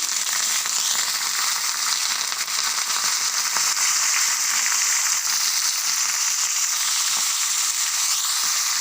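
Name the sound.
curry leaves sizzling in hot oil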